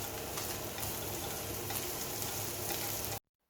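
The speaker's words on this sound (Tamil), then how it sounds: "கூடவே 2 க்ரீன் சில்லியையும் சேர்த்து நல்லா இதை வதக்கிக்கணும்." Chicken sizzles in a pan with sliced onion and green chilies, a steady, faint, even frying hiss that stops abruptly.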